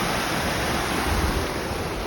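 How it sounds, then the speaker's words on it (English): Rushing water near Tukad Cepung waterfall in Bali, a loud, steady roar of churning flow with a heavy low rumble, close by and unbroken, with no voices. "see the rush of the water"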